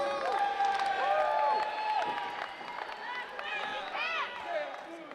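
A crowd cheers for Kansas City at an NWL wrestling show, a loud roar with whoops and clapping rising and falling, mixed with voices and shouted calls close to the microphone.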